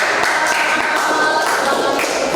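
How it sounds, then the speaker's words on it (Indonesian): A classroom group claps together after a presentation during a teacher exam session, steady dense clapping at close range with a faint voice underneath. "tepuk tangan untuk kelompok"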